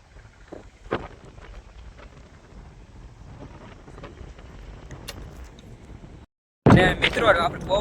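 Strong wind sweeps across an open farm field ahead of rain, buffeting the microphone with a low rumbling roar and scattered gusts. Near the end the sound drops out briefly, then returns in a much louder blast.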